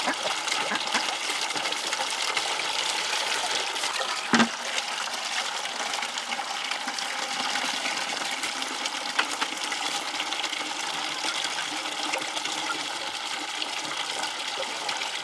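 Water gushes steadily from an opened pipe into an elevated duck pool, a continuous broadband rush holding at a fairly even level throughout, with one brief sharp knock partway through.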